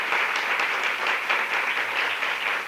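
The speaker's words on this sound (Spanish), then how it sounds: "Un aplauso para las niñas que hoy nos han dispuesto su casa." Dense, steady applause from a large crowd fills a ceremony of Colombia's family welfare institute, honouring the girls who hosted the gathering in their home, with sustained clapping and no gaps.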